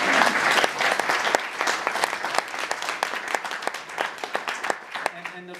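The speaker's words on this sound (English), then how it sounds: "That's applause, please." A festival crowd at Telluride Mountainfilm breaks into loud applause with sharp nearby claps over a dense wash of clapping. It gradually tapers, and a brief tone enters at the end.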